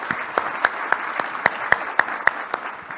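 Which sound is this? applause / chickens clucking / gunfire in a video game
applause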